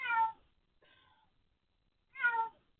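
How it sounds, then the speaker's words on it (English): A cat meows three times nearby: a loud drawn-out cry, a softer shorter one, then another loud meow after a pause, with no other sound in between. "Oh my gosh, that cat is annoying."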